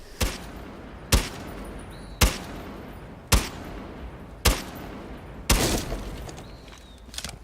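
Bearing 9 gunfire in Rainbow Six Siege punching holes through a garage door: six sharp, evenly spaced shots about a second apart, each a loud crack with a brief tail, the last shot trailing into a longer rumble.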